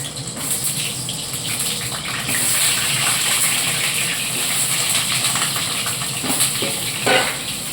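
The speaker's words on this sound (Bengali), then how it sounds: "কড়া তেল দিয়ে দিয়েছি এদিকে হালকা ভেজে নিচ্ছি" Frying in hot oil in a wok-style kadai, a steady sizzling hiss that swells midway and carries on without pause, with occasional stirring clatter; no one speaks.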